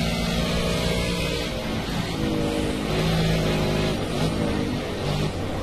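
An Aston Martin in a racing video game holds high revs, producing a loud, continuous engine drone with layered harmonics that shift slightly in pitch through the stretch, with no talking.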